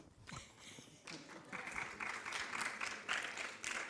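Applause from a conference audience at a European social economy gathering, starting thin and swelling into fuller clapping, with a voice talking over the opening moments.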